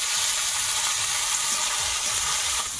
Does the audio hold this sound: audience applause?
no